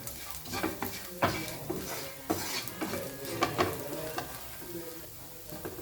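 Onions with chili powder and turmeric are stirred in a hot pan for a cassava thoran, giving steady sizzling and frying with scraping spoon strokes and light clinks against the pan, close and continuous.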